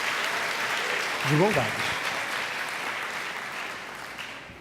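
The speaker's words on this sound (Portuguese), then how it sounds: "Você pode aplaudir a esse Deus?" A church congregation applauds as a dense, even wash of clapping that fills the whole stretch, with a voice briefly speaking over it.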